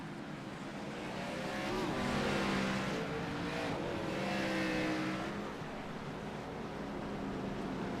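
Race car engines from an iRacing NASCAR Xfinity Series race at Martinsville, a steady roar that swells and fades as cars pass, with no talk over it.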